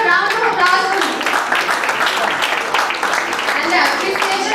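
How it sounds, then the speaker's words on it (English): An audience at a school Independence Day celebration claps for a participant in a dense, continuous round of applause, with children's voices mixed in. "Can I have a round of applause for him?"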